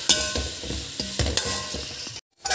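Onions and green chillies frying in a pan, a steady close sizzle broken by rhythmic spatula scrapes and knocks as they are stirred, cutting out briefly near the end, no talking.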